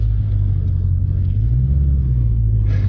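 A Dodge Challenger SRT 392 pulling away from a stop, a deep, steady, close engine rumble that holds throughout with no voices over it.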